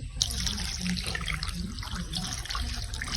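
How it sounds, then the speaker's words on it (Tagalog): Water pours steadily from a tap into a cooking pot while sinaing is prepared with onion, garlic, peppercorns and salt, a continuous close splashing trickle with faint kitchen noise. "Lagyan natin mga idol ng tubig."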